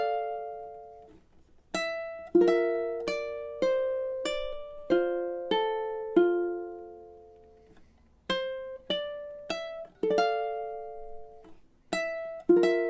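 Fingerpicked guitar moving up the fretboard with campanella technique, overlapping notes ringing into each other like bells, close and solo with short gaps between phrases.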